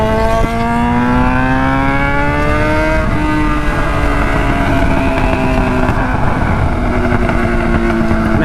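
Yamaha R6 sport motorcycle on the move, its engine droning loud and close with smoothly rising and falling revs and gear changes, no talk.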